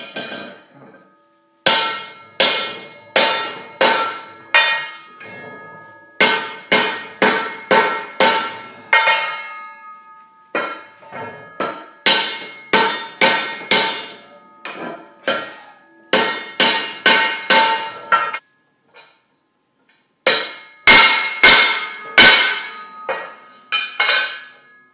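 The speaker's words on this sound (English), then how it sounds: "I use this piece of shaft, put it here on the horseshoe, and just beat it around." A horseshoe is hammered around a steel shaft in quick groups of about four to six ringing metallic blows. The groups are separated by short pauses, and the strikes are close and loud, with no speech.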